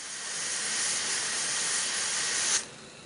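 An IMUSA pressure cooker cooking beef chili vents steam in a loud, steady hiss that ends with a short sharp burst, then drops to a quieter hiss, with no talk.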